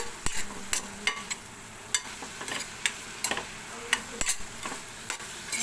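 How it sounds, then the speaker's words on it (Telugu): Onions fry in a pan for aloo curry with a soft, steady sizzle, broken by repeated sharp scrapes and taps of a spatula stirring them, close up and with no talking. "ఇదిగోండి, ఉల్లిపాయలు మంచిగా వేగుతుంది."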